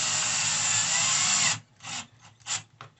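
Screw being driven into a pre-drilled hole while assembling a Homefort 13 gallon unit, heard as a loud steady power-driver whir for about a second and a half, then several short uneven bursts and gaps as it finishes.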